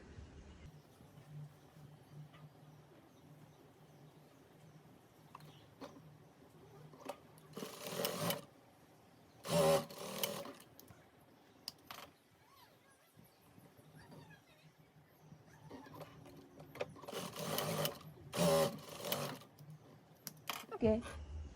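A sewing machine stitches two pieces of a double-colour gown together in a few short, rapid whirring bursts, with quiet talking in between.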